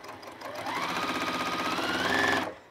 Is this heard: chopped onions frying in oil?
no